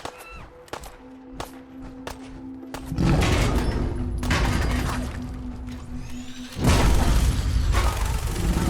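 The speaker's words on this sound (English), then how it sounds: "That Deathclaw is no match for the minigun of course" Minigun fire against a Deathclaw in the VR shooter Fallout 4 VR, a dense, loud roar of rapid gunfire bursting in after scattered clicks and clanks, running continuously with a brief dip before surging again.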